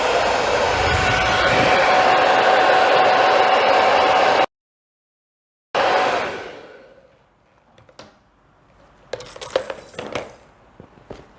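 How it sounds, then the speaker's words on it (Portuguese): A hair dryer blows hot air to warm fabric on a pleated bag project, a loud steady rush for several seconds, then a brief gap and another burst that winds down, followed by light clicks and handling noises. "eu vou aquecer um pouco com o secador"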